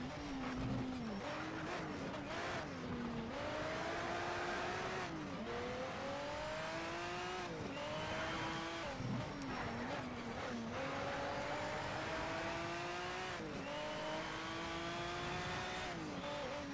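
Race car engines at Princess GP in Need for Speed: Shift, revving up through repeated gear shifts with rising and falling pitch, tires squealing, loud and continuous across a final lap.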